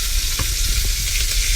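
Steaks frying in olive oil in a hot pan give a loud, continuous sizzle with crackling pops, close up and with no talking.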